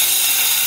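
A concrete saw cuts into a crystal stone, giving a loud, continuous, harsh grinding whine with no break.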